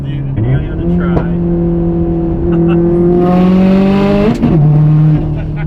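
A stock-motor Subaru STI accelerates hard with a loud engine drone that climbs, then drops sharply as it shifts gear and climbs again, heard close from inside the car.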